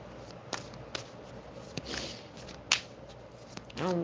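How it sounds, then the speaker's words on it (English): Tarot cards are shuffled by hand at close range, with soft riffling and a few sharp flicks and taps of the cards spread over several seconds. "Let me shuffle a little more."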